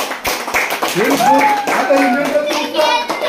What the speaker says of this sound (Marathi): सर्वांनी जोरात टाळ्या वाजून